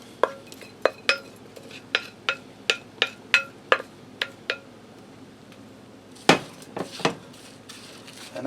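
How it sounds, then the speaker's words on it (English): A utensil scrapes and knocks against the bottom of a skillet of taco hashbrown mixture, about a dozen sharp, close clinks in an uneven rhythm, then a pause and a few more scrapes. "I want to scrape all this goodness out the bottom."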